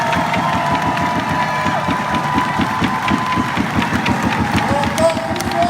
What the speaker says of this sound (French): je demande des applaudissements